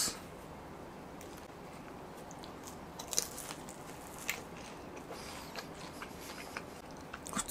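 Someone bites into and chews a chewy Seven-Eleven beef curry bread, soft crunching and squishy mouth sounds repeating close to the microphone over a quiet background hiss.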